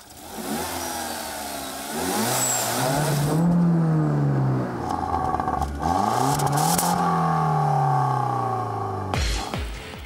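A Citroen DS3 Racing convertible's engine revs hard twice, each rise climbing in pitch and then dropping back, loud and close with a raspy, clattery edge and no talking over it.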